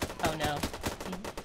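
Rapid gunfire from a weapon shooting troops in a sci-fi modded video game, a quick series of sharp close shots in a short burst with speech mixed in.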